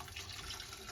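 Water pours steadily into a cooking pot during a cooking class, a continuous close splashing flow lasting about a second with no talk over it.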